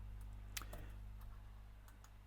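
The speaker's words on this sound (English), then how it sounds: "I'm just going to quickly type it in." Faint, quick keystrokes on a computer keyboard, a short irregular run of light clicks over a steady low electrical hum.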